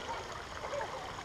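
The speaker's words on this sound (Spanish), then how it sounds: "Estos torrentes de agua pasan de una jaula a otra jaula." Running water courses in streams between zoo enclosures, a continuous close gurgling rush with no voices over it.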